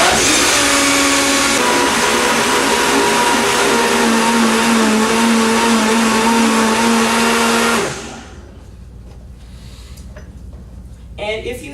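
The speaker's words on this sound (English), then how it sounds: "I like to blend it in stages so it doesn't get, doesn't burn out the machine" A high-powered blender churns a thick vegan cheesecake mixture, roaring loud and steady for about eight seconds before cutting off, leaving faint kitchen clatter.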